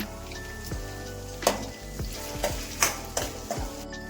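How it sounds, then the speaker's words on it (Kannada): Curry leaves, green chillies and mustard seeds fry in hot oil with a steady close sizzle. Sharp pops and crackles cut through it at irregular moments, with a faint tone in the background and no talking. "ಇದೆಲ್ಲ ಎಣ್ಣೆಲೆ ಚೆನ್ನಾಗಿ ಫ್ರೈ ಮಾಡ್ಕೊಳ್ಳೋಣ"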